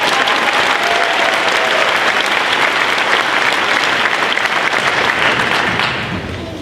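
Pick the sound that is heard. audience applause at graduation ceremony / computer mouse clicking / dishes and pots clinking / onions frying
audience applause at graduation ceremony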